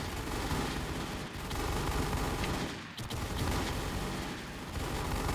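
Rapid, continuous gunfire and explosions from a Thai-language multiplayer shooting video game, dense and loud throughout with brief dips near the end of the first second and around three seconds, almost no talk over it.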